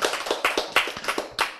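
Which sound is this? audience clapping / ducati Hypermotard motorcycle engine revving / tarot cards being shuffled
audience clapping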